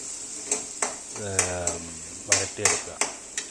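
Ginger, green chilli, garlic and onion being sautéed in oil with mustard seeds in a pan, heard as sharp metallic spatula clinks and scrapes against the pan at irregular intervals beneath someone speaking.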